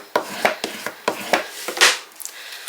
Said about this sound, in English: And then we're just going to burnish that down.